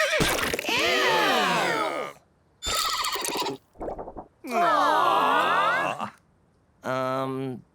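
A cartoon mule brays in a run of loud, wavering, strained cries, about five bursts split by short gaps, close and alone.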